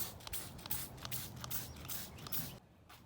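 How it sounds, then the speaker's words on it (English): Alumabrite cleaner is sprayed onto an engine motor in short hissing bursts, a run of quiet repeated sprays with scraping shuffles between them before a brief pause. "I ended up just spraying it with Alumabrite and then hitting it with the pressure washer"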